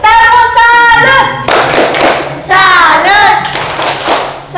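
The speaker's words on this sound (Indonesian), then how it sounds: "Ayo kita berikan tepuk salut." Classroom of children doing a rhythmic salute clap, loud chanting voices with hand claps in bursts, close and energetic.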